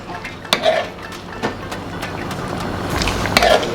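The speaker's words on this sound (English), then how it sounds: "So just stir up now, and that is it." Lobster and mixed seafood curry being stirred in a pot, with scattered metal utensil scrapes and clinks over a low background, no talking.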